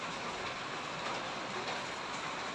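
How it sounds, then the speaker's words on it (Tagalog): Steady rain falls outdoors as a dense, even hiss, soft and continuous with no pauses. "Ito, umuulan mga idol."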